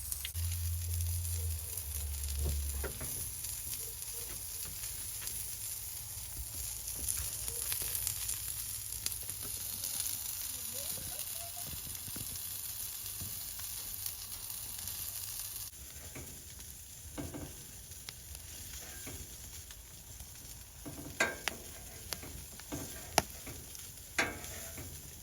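Sausages frying on a camp stove inside a campervan give a steady close sizzle that runs throughout. Occasional soft clicks and taps come through, and no one talks.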